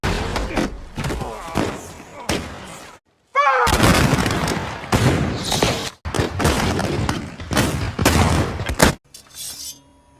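Gunshots ring out in a western film about cowboys, with loud, dense bursts of firing broken by brief pauses and mixed with other film sound.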